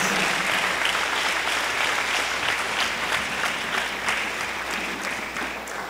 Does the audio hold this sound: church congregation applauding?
yes